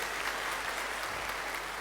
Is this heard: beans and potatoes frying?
no